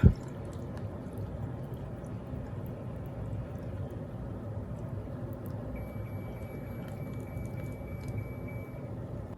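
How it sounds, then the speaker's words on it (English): An AIRMSEN countertop dishwasher filled with hot water gives a steady, drawn-out electronic beep of about three seconds, sounding over a low, continuous murmur of water and machine hum. "So you did hear the audible beep whenever we got the water all full."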